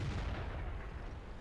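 A tank cannon shot in World of Tanks, a dense rumbling boom that fills the moment and slowly fades, close and heavy with no talk.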